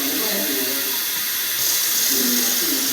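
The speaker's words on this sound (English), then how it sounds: "I'm going to add some more water to it." Water from a tap pours into a pot of simmering pinto beans, a steady hissing rush that grows a little louder midway, with low bubbling underneath and no talk.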